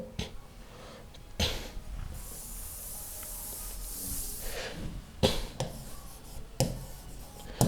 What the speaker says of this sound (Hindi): मैं फिर लिख देता हूं, 1 मिनट, थोड़ा बड़ा लिख देता हूं।